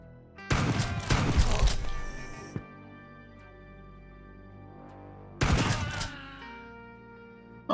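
Shotgun blasts ring out in the sci-fi game Quasimorph. Two heavy bursts of gunfire each roar for about two seconds, separated by quiet ringing decay, and a sharp thump falls between them.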